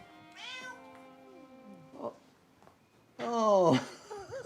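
A cat meows several times in a domestic comedy scene, with a long drawn-out meow near the start and a louder, rising cry toward the end, heard close and clear amid quiet room sound.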